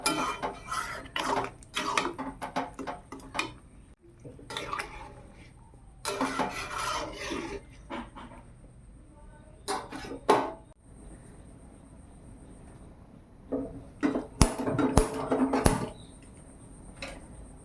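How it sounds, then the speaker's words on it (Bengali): Metal pots clatter and scrape on a stovetop as a kadai is set down for frying luchi, in bursts of clanks and rubbing separated by quiet pauses, close and fairly loud. "আমি ঘুগনি কড়াটা এদিকে বসিয়ে দেই হতে থাক আর এখানে ততক্ষণ লুচি ভাজবো অন্য একটা তেল কড়া বসিয়ে দিলাম"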